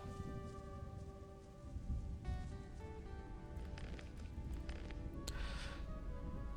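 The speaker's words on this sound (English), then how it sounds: "And it's raining as well." Steady rain in the medieval fantasy role-playing game Gothic 2, a soft, continuous wash of patter under a low rumble with a few faint splashes, fairly quiet, no talking.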